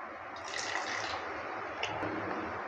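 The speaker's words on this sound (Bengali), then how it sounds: "এবার মিক্সি জারের মধ্যে মটরশুঁটিটা ঢেলে দিচ্ছি আর দিয়ে দিচ্ছি সামান্য জল।" A small amount of water trickles into a mixer jar holding green peas, a faint, steady soft splashing hiss lasting a few seconds.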